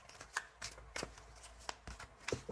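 Tarot cards, from a deck called Histoire de sorcière, being shuffled by hand for a reading, a quiet close-up riffling in short irregular flurries of papery slaps and flutters.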